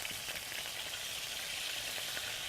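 Beef steak spread out to stir fry in a very hot wok, giving a loud, steady, dense sizzle that holds unbroken throughout with no voices over it.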